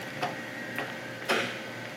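An industrial roll packaging machine cuts pouches off a sheet, giving three sharp mechanical clicks spaced about half a second apart over a low steady motor hum, close and moderately loud, with no talking.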